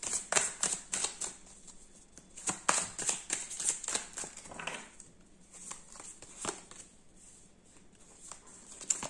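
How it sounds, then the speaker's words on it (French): Tarot cards being shuffled by hand, a run of quick papery riffles and soft slaps in bursts, close and fairly quiet, with short pauses between handfuls. "Alors, ça veut sortir."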